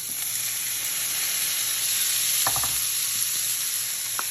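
Onions, tomatoes, peppers and cilantro frying in oil for a coconut tomato sauce for mackerel: a steady, close hissing sizzle with a few soft stirring knocks, no voices.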